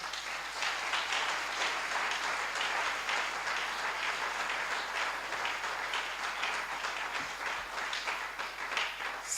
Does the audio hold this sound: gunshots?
no